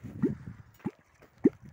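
Water drips and splashes near a running aquarium compressor, three separate soft plops spaced about half a second apart over a quiet background.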